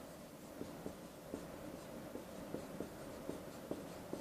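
A math step being written on a board, with soft, regular strokes and taps repeating every fraction of a second against a steady background hiss.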